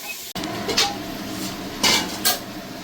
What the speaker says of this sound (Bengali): তাও সবজিগুলো ভেজে নেব